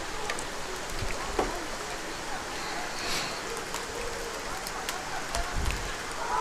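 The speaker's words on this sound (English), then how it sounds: "I know this rain ain't going to last but about 5 minutes" Rain patters steadily on a surface at an outdoor high school spring football game, Charles Henderson versus the Jags, a continuous noisy wash with faint crowd murmur and occasional knocks beneath.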